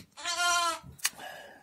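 A large newborn lamb or ewe gives one long, wavering bleat during lambing, close and clear, followed by a brief sharp noise and a quieter rustle.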